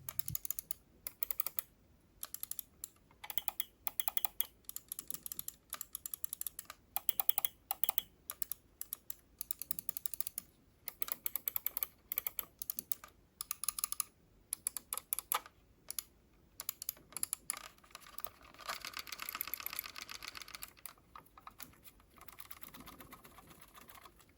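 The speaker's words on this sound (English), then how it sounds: "the button sound is different, and the third side button has very loud torsion spring" Rapid, crisp plastic clicking of Logitech G502 X Plus mouse buttons in irregular bursts, close to the listener, with brief quiet gaps between clusters and no talking.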